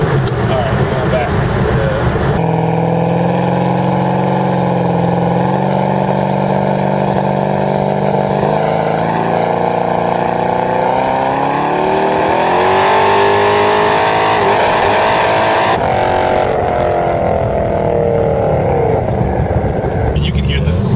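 A 1500 HP Nelson Racing Engines 5th Gen Camaro street car roars loudly and continuously up close, its engine note sweeping and climbing as it revs hard, with voices heard faintly in the background.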